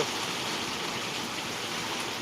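Steady monsoon rain pours down in Akluj, a dense continuous hiss of drops on surfaces, close and even throughout with no voices.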